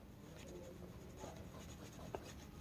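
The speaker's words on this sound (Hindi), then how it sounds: "तो यहाँ पे हेडिंग लिखेंगे" A heading is written on a board during a Hindi-language number system lesson, giving soft, steady scratching strokes that run continuously at low volume, with a slightly sharper tap near the end.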